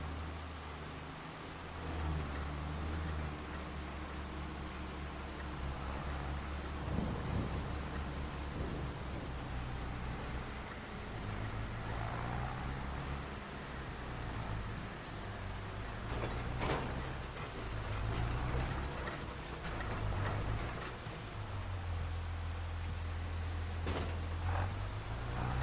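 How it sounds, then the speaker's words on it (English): Steady rain falls in a precision farming video game, a constant broadband hiss with faint low rumbles and occasional soft clicks, with no voices over it. "Still raining."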